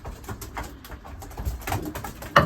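Racing pigeons in a loft at feeding time, with soft cooing and bird calls scattered through the clip, plus a louder close burst of sound near the end over steady background noise.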